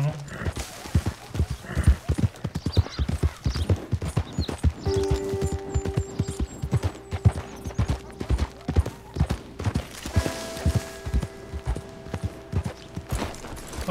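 Horse hooves clip-clopping in the video game Red Dead Redemption 2, a steady rhythmic walking gait close by, with faint sustained tones in the background.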